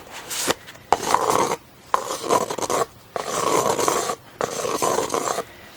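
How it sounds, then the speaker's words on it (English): Tarot cards from the Wild Unknown Archetypes deck being shuffled, in repeated rasping, rubbing bursts with short pauses between them, close and with no speech. "these cards are almost impossible to shuffle"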